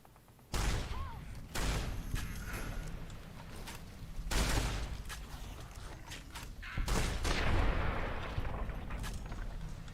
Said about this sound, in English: This shotgun is nifty.